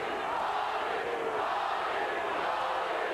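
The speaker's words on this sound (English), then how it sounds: "Crowd chanting, Paulie, Paulie," A large boxing arena crowd at Morales vs Ayala roars in a dense, sustained wall of chanting for Paulie, loud and continuous with no clear breaks.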